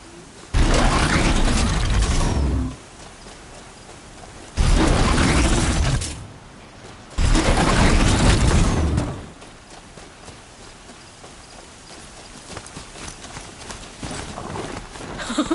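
Mechanical Strider mount in Horizon Zero Dawn galloping, three loud bursts of rapid metallic hoofbeats with whirring, clanking machinery, separated by quieter gaps as the ride surges and pauses.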